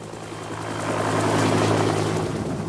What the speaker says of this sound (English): Then the helicopter took off, and for a few tense minutes flew across the town.